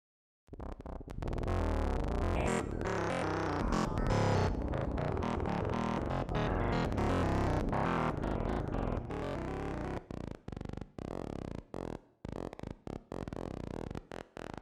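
Weird, glitchy effected synth patch made in Vital inside Ableton: a dense, distorted sustained tone for about nine seconds, then chopped into abrupt stuttering bursts separated by short silences.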